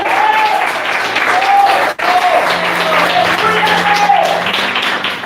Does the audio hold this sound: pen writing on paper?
no